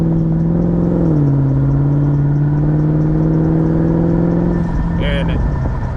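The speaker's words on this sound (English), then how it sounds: "So like now I'm accelerating." A Mercedes CLK500 convertible accelerates with the top down: a loud, steady engine drone under rushing wind, dipping once as the gear changes early on, then holding before easing near the end.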